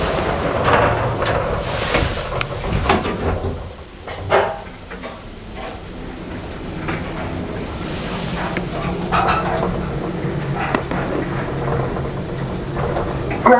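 Hospital lift doors sliding shut with mechanical clunks, then a steady hum of the lift cabin moving between floors, with rattles and knocks throughout.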